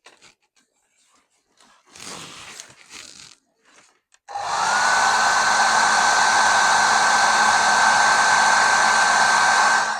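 A hair dryer blasts at mixed media journal pages, switching on partway through after a few soft handling sounds and then roaring loud and steady to the end.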